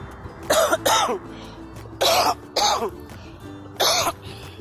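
Three pairs of harsh coughs, evenly spaced, close by with quiet pauses between each double burst.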